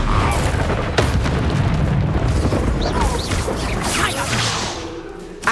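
Bombarda spell explosion in the video game Hogwarts Legacy on PC: a dense, roaring blast with crackling debris and whooshes that stays loud for several seconds before a final sharp hit.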